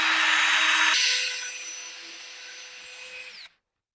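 Power drill boring dowel holes in wood for a framed wooden sign, a loud whirring run that drops in pitch and fades as the motor winds down, then cuts to silence.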